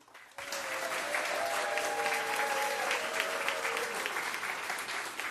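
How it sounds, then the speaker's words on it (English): An audience at a community design charrette for a decorative arts museum bursts into applause after a brief quiet start, a steady, full round of clapping that carries on with a faint voice beneath it. "I wish I got that kind of applause"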